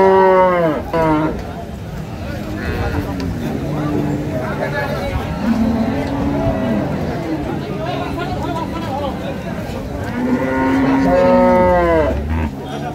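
Improved-breed dairy cows and calves moo loudly and repeatedly at Ambari livestock market in Dinajpur, the long calls rising over a constant babble of people talking.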